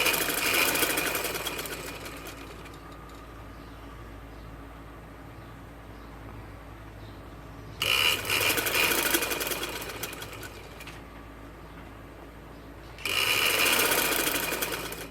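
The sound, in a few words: sewing machine stitching a ladies' shameez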